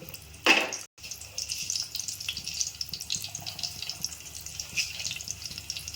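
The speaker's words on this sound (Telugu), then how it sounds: "ఉల్లిపాయ వేస్తా పానం మీద వేసుకుందాం" Chopped onion drops into a hot pan with a sharp burst, then settles into a steady, crackling sizzle that continues close by. No voices are heard.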